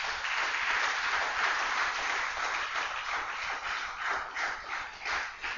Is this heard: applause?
yes